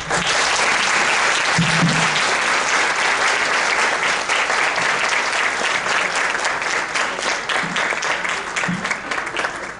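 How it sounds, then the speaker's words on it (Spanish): Sustained applause from a symposium audience welcoming a speaker, dense and even clapping from many hands that holds steady for several seconds before easing slightly, with faint murmurs underneath. "a quien también les ruego a ustedes lo recibamos con un aplauso"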